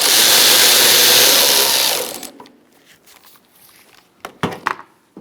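A bolt being tightened on the 5.7 L engine of a 2005-2010 Chrysler 300 during ignition coil replacement: a loud, steady whirring burst for about two seconds, then near quiet with a few sharp clicks and knocks.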